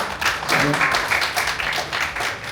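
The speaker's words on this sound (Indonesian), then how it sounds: "tepuk tangan yang meriah-meriah" Audience applause at a book launch and award ceremony, with steady crowd clapping running throughout and a voice speaking over it.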